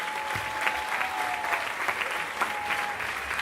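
A concert audience in a rented municipal hall in Roiffieux applauds the musicians, sustained, even clapping throughout with a few louder swells and no talk.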